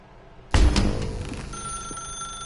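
A telephone in The Stanley Parable video game starts ringing with a sudden loud electronic bell burst, then settles into a sustained ringing tone that fades slowly.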